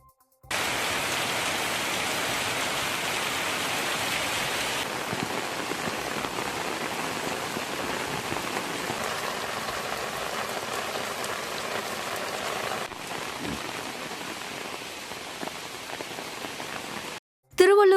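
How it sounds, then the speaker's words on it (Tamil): Heavy rain pours steadily across the Ponneri, Minjur, Pazhaverkadu and Gummidipoondi area of Tiruvallur district, a dense, even hiss of drops on surfaces that holds loud and constant almost throughout, cutting off sharply at the very end. "பொன்னேரி, மீஞ்சூர், பழவேற்காடு, கும்மிடிப்பூண்டி உள்ளிட்ட சுற்றுவட்டார பகுதிகளில் பரவலாக மழை பெய்தது."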